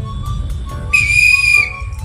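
A shrill whistle blows at a railway station, a single piercing steady blast lasting under a second over a low background rumble of the platform, loud and near.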